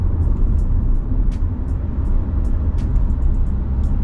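A car accelerating in fourth gear at around 80 km/h on a road, giving a loud, steady low engine rumble with road and wind noise and a few faint higher ticks, and no talk over it.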